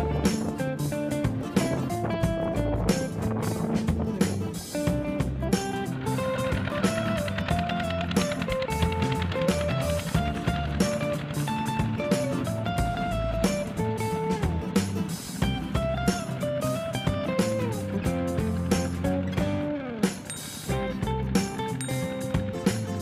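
A modified tractor without hydraulics, fitted with small twin wheels on each side, leveling soil in a rice paddy, heard as a steady chugging engine with rattling, clanking metal running continuously and loud throughout.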